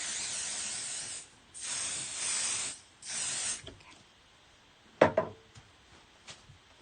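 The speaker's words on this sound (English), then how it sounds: "I'm going to use the basting spray again." Basting spray from an aerosol can misted onto quilt fabric scraps, in three close hissing bursts, followed by a few faint handling taps and clicks.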